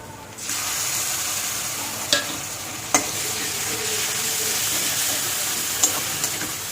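A medium-sized pre-fried onion tipped into a hot pan for a boal fish curry, bursting into a loud, steady sizzle with a few sharp clicks of stirring.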